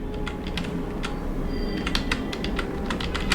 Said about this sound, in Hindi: तो यहाँ पे मैं अपना आधार नंबर टाइप कर दे रहा हूँ।